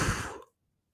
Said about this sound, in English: excuse me for my yawning.